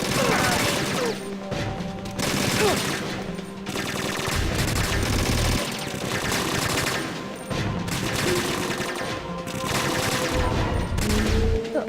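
Rapid gunfire in the video game Metal Gear Solid 2, with loud bursts of automatic fire and impacts continuing almost without pause over a low rumble, with brief dips between volleys.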